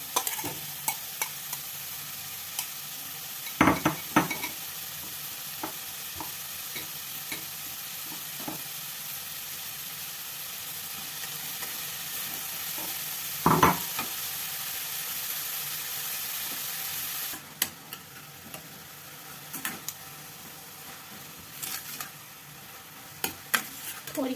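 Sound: grated bottle gourd stirred and frying in hot ghee

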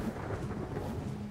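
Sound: rain and thunder in the video game ARK

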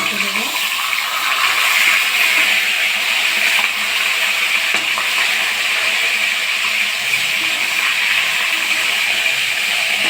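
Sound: pangas fish frying in a pan

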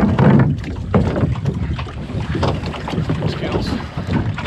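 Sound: dinghy being secured to its mooring on the water

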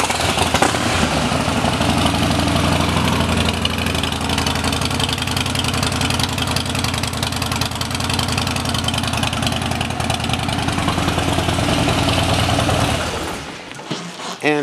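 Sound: 2017 Harley-Davidson Dyna Street Bob idling, Vance and Hines exhaust

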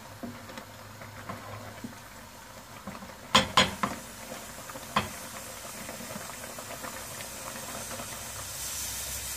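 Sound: basmati rice boiling in a pot

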